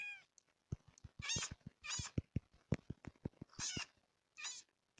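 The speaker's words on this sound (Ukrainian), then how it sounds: "Це призову кота" Several short, close cat meows from a Minecraft cat, spaced irregularly over a background of quick rhythmic thumps or clicks, with no talking.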